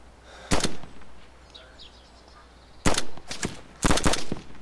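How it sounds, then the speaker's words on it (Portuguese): Gunfire in the video game DayZ Standalone comes as three loud bursts of rapid shots, one brief volley followed by two longer clustered volleys, with quiet background between them and no talking. "Estão atirando em mim."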